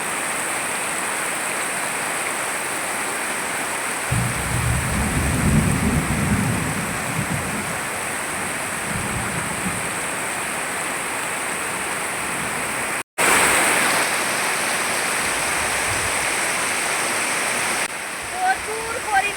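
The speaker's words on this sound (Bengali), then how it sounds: "প্রচুর পরিমাণে বৃষ্টি হচ্ছে" Heavy rain pours steadily during a thunderstorm, water streaming across a courtyard in a dense continuous roar, loud and close, with a brief low rumble partway through and no distinct thunderclap.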